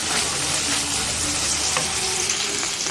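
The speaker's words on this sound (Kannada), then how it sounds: "ಒಂದು ಶುಂಠಿ ಹಾಕೊಂಡಿದ್ದೀನಿ. ಒಂದು ಚೆನ್ನಾಗಿ ಫ್ರೈ ಆಗಲಿ." Ginger and mint frying in a pan for a mutton keema sambar, a steady dense sizzle throughout with occasional stirring scrapes, close and fairly loud with no voices.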